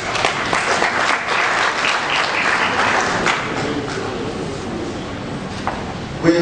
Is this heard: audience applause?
yes